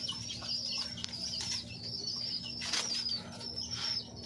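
Pigeons coo and flutter their wings over a low steady hum, with soft chirps and flapping bursts scattered throughout.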